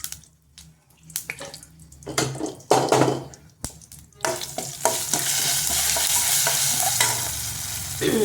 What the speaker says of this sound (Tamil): நல்லா இதுமாரி வெண்டைக்காயை நல்லா வதக்கி வச்சுக்கணும்